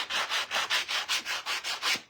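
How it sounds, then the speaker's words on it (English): An orbital sander works a wooden surface in a steady run of rhythmic rasping strokes, close and fairly loud, with no talking. "I think I can do that with the orbital sander"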